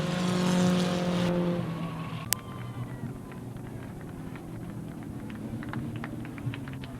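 Mini stock race cars rumble around the Waterford Speedbowl oval, a dense engine roar that drops after a brief sharp crack and then continues as a steady, somewhat distant drone from the field passing through.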